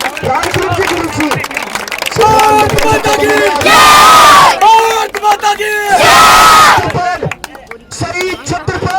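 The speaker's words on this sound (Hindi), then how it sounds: "जोरदार तालियां भाई, आपकी तालियों की गड़गड़ा सम्मान कर रहे हो" A crowd at a memorial anniversary ceremony in India claps and cheers in two loud bursts of roaring applause. Energetic talk over a loudspeaker and shouts fill the gaps between them.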